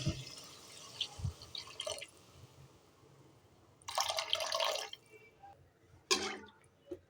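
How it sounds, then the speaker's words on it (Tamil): Tamarind water pours into a pan of turkey berry curry in two short bursts with a splashing, sizzling hiss, with quiet drips and clinks in between. "இப்போ நம்ம புளி தண்ணியை ஊற்றிக்கலாம்"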